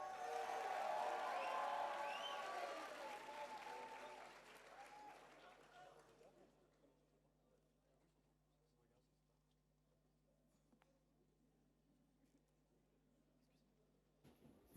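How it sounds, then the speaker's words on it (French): Applause from a gala show audience, loud and sustained for roughly six seconds with cheering mixed in, then dying away into near silence with only faint scattered noises. "On les applaudit également très fort, s'il vous plaît."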